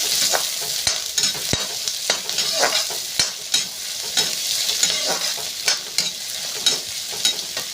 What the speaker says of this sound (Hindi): इसमें प्याज डाल देती हूँ और डाल करके प्याज मटर एक साथ डाल दिए हैं, उसको अच्छे से चला देते हैं।